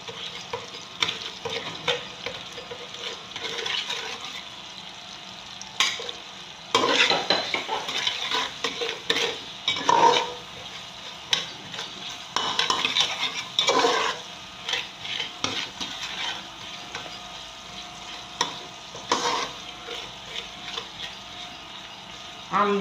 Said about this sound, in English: So I'm going to add my onions and my seasoning cube.